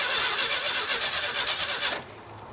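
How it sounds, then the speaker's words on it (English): A 1969 Baja Bug, left sitting for 29 years, cranks over with a fast, rhythmic starter churn close by for about two seconds, then the cranking stops and a lower rumble remains. "Try starting her again"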